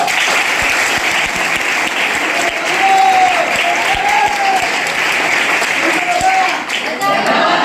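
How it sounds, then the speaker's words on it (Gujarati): A school audience at a National Doctor's Day event gives a doctor a sustained round of dense, even clapping from many hands close by, with faint voices mixed into the applause. "તો તાળીઓથી બધાય વધાવો."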